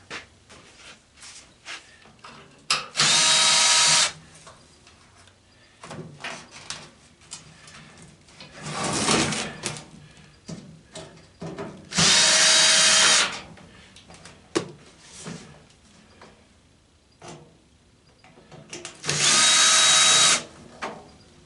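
A power drill whirs in three short, loud bursts as it backs screws out of a microwave being scrapped for copper, aluminum and magnets, with clanks and handling noises of the metal casing between bursts and no talking.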